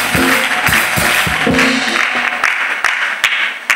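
A congregation gathered for testimonies breaks into steady applause mixed with raised voices of acclamation, a loud, continuous wash of clapping with scattered louder claps as it tapers off.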